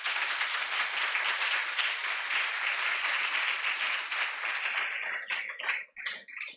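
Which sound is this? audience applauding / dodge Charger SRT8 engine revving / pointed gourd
audience applauding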